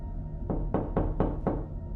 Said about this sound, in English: then I heard the knocking at the door